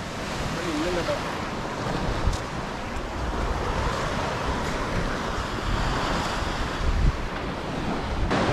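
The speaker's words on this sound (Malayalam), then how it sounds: "കാരണം അത് ഫുൾ ടൈം വെള്ളം ഇങ്ങനെ വന്ന് അടിക്കുന്ന സ്ഥലമാണ്" Sea waves at Ettikkulam beach wash and break continuously against rocks, a loud broadband roar mixed with heavy wind buffeting the microphone, with occasional stronger surges and no talking.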